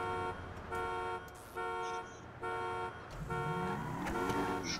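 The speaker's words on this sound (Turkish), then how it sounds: "Şu alarm sussa artık." Car alarm in the video game Grand Theft Auto 5 blares in a steady repeating pattern of harmonic honks, five even pulses with short gaps, then fades under engine rumble as the game continues.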